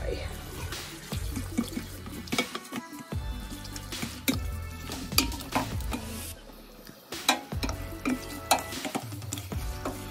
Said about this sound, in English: I'm going to mix all this up with all of the sauce.